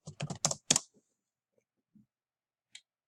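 A quick burst of keystrokes on a computer keyboard entering a search query, close and fairly quiet, followed by a few isolated clicks and a final soft tap against near silence.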